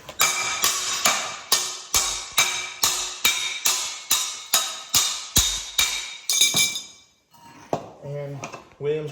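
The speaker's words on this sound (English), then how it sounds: "I'm gonna use my hammer here." A hammer strikes the axle of a Honda 400EX ATV about a dozen times in a steady rhythm, each blow a sharp, ringing metallic clang close up. The strikes stop and a voice speaks afterward.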